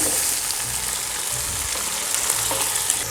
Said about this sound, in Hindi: अब मैं इसको डाल रही हूँ इस मसाले के साथ फ्राई करने के लिए